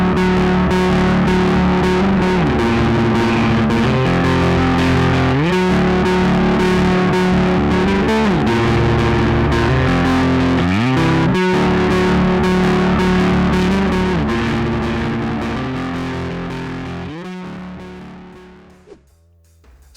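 Bass guitar played through a Karma MTN-Bass drive pedal, a thick, gritty midrange riff that plays loud and continuously, then fades away in the last few seconds.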